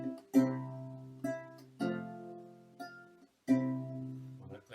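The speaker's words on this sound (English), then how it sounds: "when I played on a small lute with the top string of G, the piece Calano sounds like this at the beginning" A small lute tuned with a top string of G plays the opening of the piece Calano, with separate plucked chords and notes ringing out and decaying between short pauses, quiet, intimate and solo.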